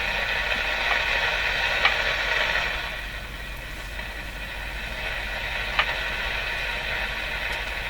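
Static hiss on the top shortwave band of a Crosley Mohawk Model 14B tube radio, a steady broadband rush with a couple of faint clicks, loud and close.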